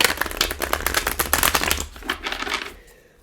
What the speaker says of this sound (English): Let's give it one more good shuffle.